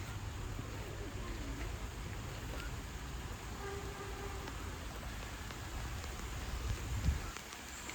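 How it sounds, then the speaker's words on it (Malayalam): Heavy rain falls steadily outdoors, a continuous broadband wash with a low rumble beneath and faint voices nearby, swelling briefly near the end. "നല്ല മഴയൊക്കെ പെയ്യുന്നുണ്ട്"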